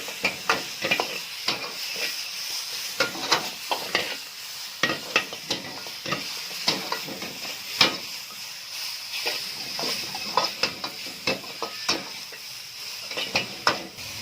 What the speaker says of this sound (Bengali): চিকেনটাকে হালকা ফ্রাই করে নেব।